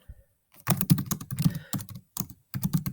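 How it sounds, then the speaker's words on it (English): Rapid bursts of typing on a computer keyboard while entering text into a box, clustered clicks arriving in several quick runs separated by brief pauses, close and fairly loud with no voices. "And I can type"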